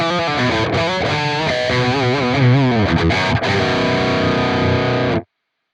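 Electric guitar through a Myth drive distortion effect on a Quad Cortex: thick sustained overdriven chords and bent notes, loud and continuous, ending with an abrupt cut to silence.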